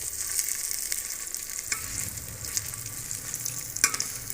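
Eggplant koftas frying in very hot ghee give a steady close sizzle with faint stirring and a few sharp crackles, no voices.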